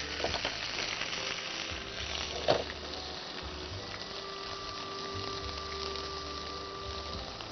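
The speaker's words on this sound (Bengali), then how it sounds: "এখানে তেজপাতা দিয়ে দিব 4-5টা, এখানে পেঁয়াজ বাটা আছে আমি পুরোটাই দিয়ে দিলাম" Onion paste and bay leaves sizzle steadily in hot mustard oil in a pan, a soft continuous frying hiss with a brief clink of stirring partway through.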